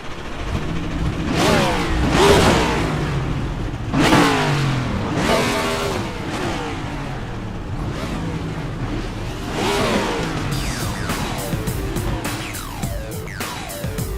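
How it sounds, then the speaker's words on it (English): Race car engines in the eNASCAR iRacing video game at Charlotte Motor Speedway start up and rev loudly, a continuous roar of several engines with repeated rising and falling revs throughout. "drivers, start your engines!"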